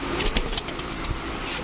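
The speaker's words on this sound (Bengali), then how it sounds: "এখন দেখাবো বাঘা চুইঠাল গলা কষা একটা মাদি কবুতর" A female pigeon of the Bagha Chuithal breed flaps its wings up close in a series of quick, fluttery bursts, with faint background noise and no talking.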